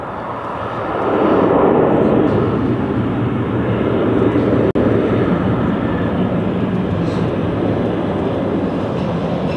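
A Luxair airliner with special livery roars past at London City Airport, a loud, broad jet rumble that swells early and holds steady, close and continuous.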